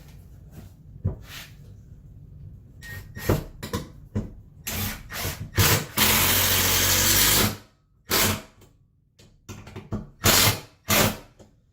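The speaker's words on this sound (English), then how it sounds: "It's the first 12-volt drill I've had in my life." A 12-volt cordless drill drives screws in short, loud bursts of whirring, including one sustained run of about a second and a half, with clicks and handling noises between the bursts.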